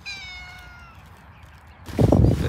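A cat gives a single drawn-out meow close by, followed by a burst of loud broadband rustling or handling noise near the microphone.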